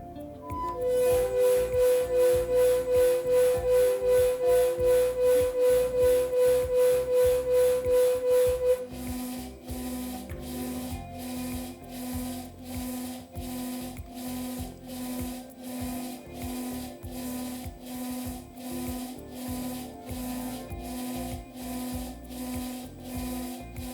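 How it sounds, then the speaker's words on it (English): KEB drive-controlled electric motor during a motor identification run, giving a loud, rapidly pulsing electrical buzz with a steady tone that then shifts into a harsher, rougher rhythmic grinding pulse, continuous and close. "So those loud noises you could hear, that's the motor identifying the inductance."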